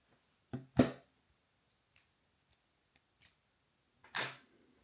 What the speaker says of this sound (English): that just pops straight on top of the old lens